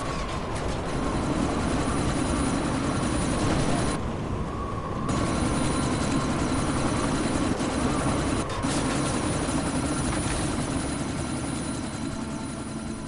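A helicopter in the video game Deus Ex: Mankind Divided gives a steady, loud rotor and engine drone that fills the whole stretch, briefly dropping away for about a second before the sound resumes.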